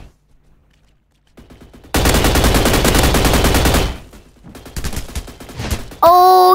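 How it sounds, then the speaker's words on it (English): Sustained automatic gunfire from the video game Energy Assault erupts loudly after a quiet start, rattling for about two seconds, then continuing in softer bursts before a sharp electronic tone at the end. "Oh, he shot us."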